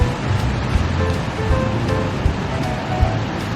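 Ocean surf at Uppers, San Onofre, rolls in as a loud, continuous wash of breaking waves close by, with gusty wind noise over the top.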